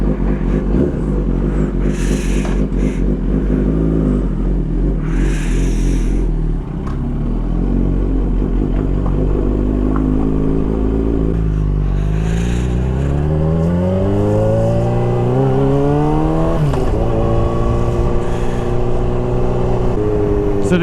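A Yamaha R6 sport bike, freshly ECU remapped, revving hard and close for about twenty seconds, its engine note climbing and falling through repeated throttle sweeps, with mechanical clatter underneath.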